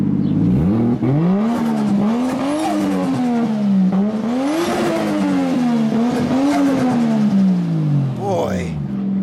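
A Toyota 1J engine in a car revs up and down repeatedly, rising and falling through a strong throaty tone, loud and close, with a sharp spike near the end.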